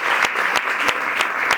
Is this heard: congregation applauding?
yes